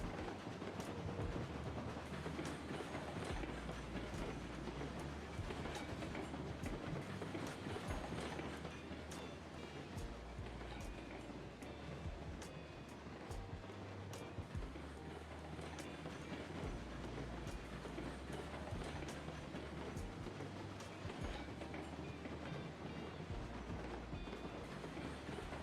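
Steady train rumble with rhythmic wheel clatter on rails in a railroad game, a quiet continuous rolling sound with faint clicks throughout and no talk.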